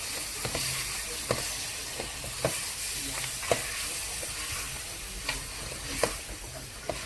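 Bony meat pieces for haleem sizzling in a pan while being stirred, a soft steady hiss broken by regular spoon scrapes and knocks roughly once a second.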